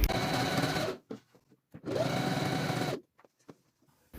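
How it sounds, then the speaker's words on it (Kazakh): Sewing machine running a straight seam along the edge of fabric for a table runner or placemat, two steady stitching runs of about a second each separated by quiet handling clicks. "мына машинканың табанын жаңағы матамыздың шетіне қойып, түп түзу қып, екінші басына дейін түзу тігіспен тігіп шығатын боламыз"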